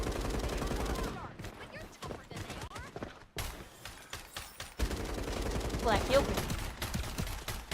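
Bursts of gunfire from the Rainbow Six Siege X video game, including shotgun and pistol shots, crack in clustered volleys amid game effects while a player talks over them.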